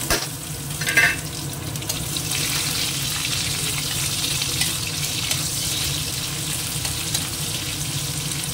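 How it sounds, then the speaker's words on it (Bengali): Sliced potatoes fry in a pan with a steady close sizzle, with a brief clatter near the start and soft stirring scrapes running through the rest. "তো এই যে আলুটা ভাজতে দিয়েছি"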